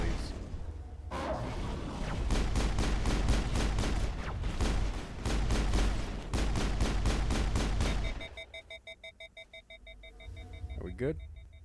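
Automatic weapons fire in bursts during a Mass Effect firefight, loud and close for several seconds, then giving way to quieter electronic beeping and tones, with speech mixed in.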